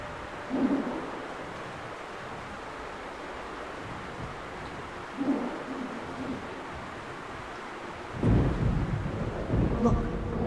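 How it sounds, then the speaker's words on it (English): Thunder from a storm in the video game Metro: Last Light rolls in three separate heavy rumbles, spaced several seconds apart over a steady rain-like hiss, the last one loudest and longest. "Storm."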